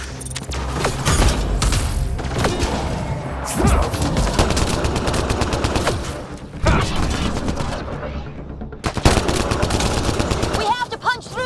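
Gunfire from the video game Mass Effect: Andromeda: loud, sustained rapid bursts of automatic weapons with booms and thuds, briefly pausing before the shooting resumes, with voices partly under the din.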